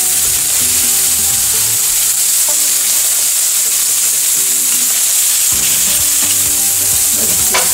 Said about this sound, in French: je vais mettre les oignons par-dessus. Je vais juste un tout petit peu, hein. Je ne vais pas laisser cuire, mais